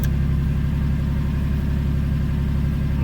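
Honda Acty mini truck engine idling with LED lights switched on, a steady, close low-pitched chug with an even pulsing rhythm and no change in pace.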